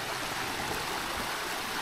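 Steady, continuous rush of a river stream flowing at night, a broad even wash of water noise with no pauses, fairly close and unbroken throughout.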